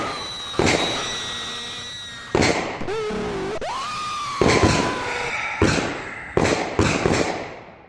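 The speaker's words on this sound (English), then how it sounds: "with the gunshots, my mic always goes out and then you guys can't hear me" Pistol gunshots from a .22 WMR fired nearby outdoors, about six sharp cracks at irregular intervals, each with a brief ringing tail, loud and close, no speech over them.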